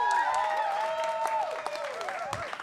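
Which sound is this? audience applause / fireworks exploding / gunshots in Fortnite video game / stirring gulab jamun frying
audience applause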